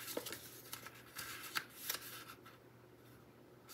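Card paper being folded in half and creased by hand for a gift card treat holder purse, giving a series of short, close, crisp rustles and sharp creasing swipes spread across the clip, with quieter stretches in between.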